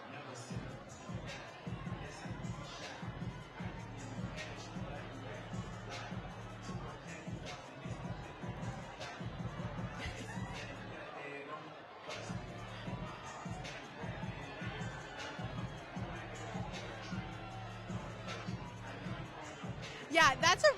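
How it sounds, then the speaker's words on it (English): Election night crowd of supporters in a room at a Georgia Senate runoff celebration, a steady roar of cheering and shouting with a pulsing music beat underneath, rising into louder screams near the end. "They're so loud. They're screaming. They're cheering."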